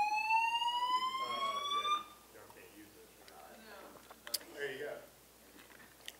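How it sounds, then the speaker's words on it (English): A building fire alarm blares loudly for about two seconds with a rising, sweeping electronic whoop, then cuts off as indoor voices and an announcement-style voice continue in a room. "An alarm has been activated in the building."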